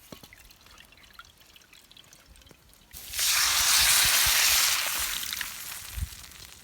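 Water from a small vessel pours into a cooking pot in one steady gush lasting a couple of seconds, then tapers to a trickle, with a faint clink near the end.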